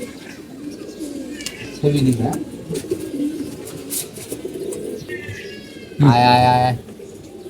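Young pigeons, about two years old, coo in low bursts close by, with a louder throaty call near the end, while someone speaks and calls to them over the birds.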